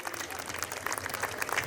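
An audience claps together at a 100-year celebration of a farm and nursery, a dense, steady burst of applause heard up close with faint voices mixed in.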